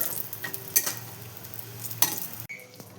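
Lentil dumplings (bori) fry in hot oil, giving a steady close sizzle with a few clinks and scrapes of a spoon stirring in the pan over about three seconds.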